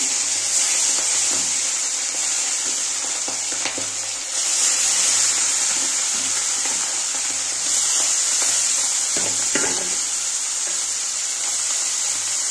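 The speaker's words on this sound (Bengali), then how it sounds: "দেখো তেলটা গরম হয়ে গেছে, এবার মাছগুলো আমি সব ভেজে নেব।" Small fish sizzle in hot oil for a mixed fish curry with aubergine and potato, producing a loud, steady, close frying hiss that runs unbroken throughout with no voices.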